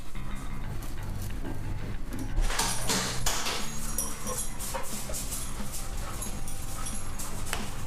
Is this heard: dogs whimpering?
yes